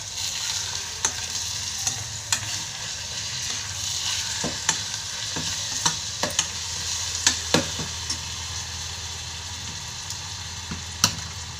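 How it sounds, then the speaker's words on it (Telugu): A spoon stirs jaggery into kadhuka kheer in a pot over heat, with a steady bubbling sizzle and irregular sharp clinks against the vessel, close and continuous with no talk. "బెల్లం వేసుకొని కలపండి"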